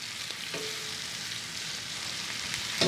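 Steak sears in a pan of butter on a gas stove while being basted, a steady close sizzle and fry with a few faint stirring or spoon scrapes and no talking.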